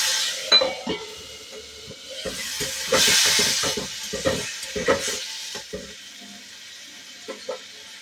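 Okra sizzles and spits in a hot pan as mixed spices are added and stirred through it, with scraping stir strokes and a steady frying hiss, no talking.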